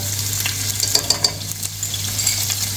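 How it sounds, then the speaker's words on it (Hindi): Ginger garlic paste hits hot oil in a pan with a bright, continuous sizzle and a few light metallic clinks of a spoon, close-up and steady, no talking. "पैन को मैं वही ऑयल ले लिया, इसमें मैं तकरीबन 1 छोटी चम्मच जो है ना वो अदरक लहसुन की पेस्ट डालूंगा"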